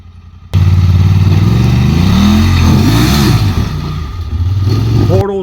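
Honda Talon UTV fitted with 40-inch tires, engine revving hard and ripping along in sustained loud bursts with rising and falling pitch before cutting off abruptly.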